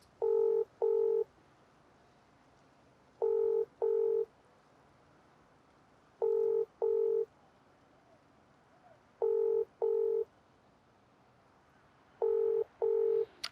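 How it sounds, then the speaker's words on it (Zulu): A telephone call rings out unanswered: paired ringback tones repeat about every three seconds, five cycles in a row, clear and steady over a faint quiet background. "Ngathi akalibambi nje ucingo"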